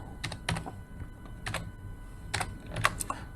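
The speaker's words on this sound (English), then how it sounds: "So here you're gonna be typing by pressing shift as the caps" Keys clatter on a computer keyboard as someone types with the shift key, a close, irregular run of sharp clicks in small bursts with short pauses between them.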